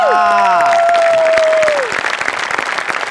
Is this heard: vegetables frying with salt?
no